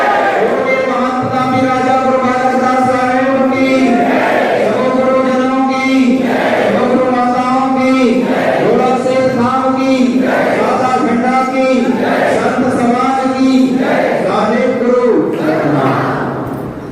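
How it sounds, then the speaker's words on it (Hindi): A crowd at a Satnami community gathering chants praise to Guru Ghasidas in loud, repeated melodic phrases that rise and fall in a steady cycle, with a dense wash of voices and possible clapping throughout. "दोनों हाथ ऊपर उठाकर एक बार जय घोषणारा तालियों के साथ बोलिए प्रभु के घासीदास बाबा की जय"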